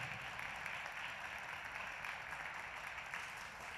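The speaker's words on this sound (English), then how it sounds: "Not only are you clapping her achievements, but you're clapping her walk also." Steady, sustained applause from a festival audience as a graduating student walks to the stage, a faint, even crowd patter heard at a distance with no pauses.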